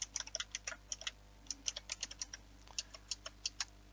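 Quick, uneven keystrokes on a computer keyboard, close and fairly quiet, tapping out a short burst of typing with brief pauses against a steady low hum.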